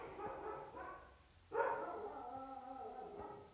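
Dogs bark somewhere nearby, a faint mix of yips and barks with one louder bark partway through, all under a low background hum.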